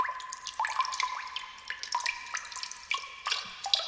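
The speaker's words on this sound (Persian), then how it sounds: "این بستگی داره آبش از کجا داره میریزه." Water runs and drips from a tap, a close trickling splash with irregular droplet hits over a few seconds, heard alone without voices.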